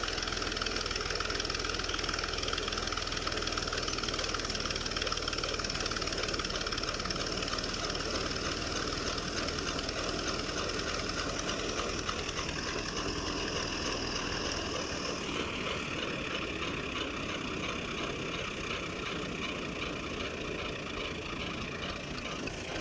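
A Fiat 480 tractor engine runs steadily while driving a thresher, a continuous loud mid-pitched drone with a knocking rumble that holds throughout, shifting slightly in tone partway through, with no voices.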